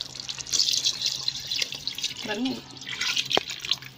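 Water is poured into a pot of chicken biryani, giving a splashing, trickling pour with a few drips, under spoken cooking narration.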